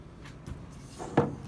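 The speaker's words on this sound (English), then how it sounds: "you gotta click it, like, you gotta turn it" A Nutribullet Combo 1000-watt blender cup being twisted onto its base, with a faint scrape and then one sharp plastic click near the end, close and quiet.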